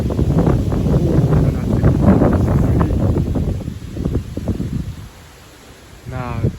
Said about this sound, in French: C'est un gros coup de vent qui arrive.